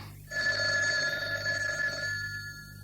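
An old-style telephone bell rings continuously with a bright metallic trill, steady and fairly close, then begins to fade.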